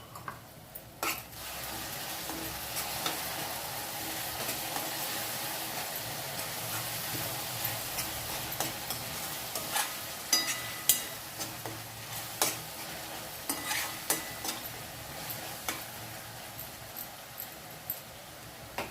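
Tomato masala with ginger garlic paste for egg curry frying in a pan, a soft continuous sizzle broken by frequent spoon stirs and clicks, close and fairly quiet.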